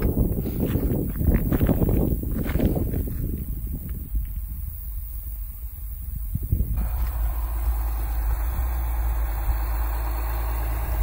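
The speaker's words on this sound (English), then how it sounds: "Let's bring in the tractor so we can get it hooked up." A farm tractor engine idles steadily on a hay-raking day, a loud low diesel rumble throughout, with some clattering and knocking in the first half before settling into an even drone.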